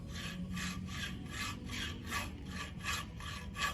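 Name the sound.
hand file rasping a wood surface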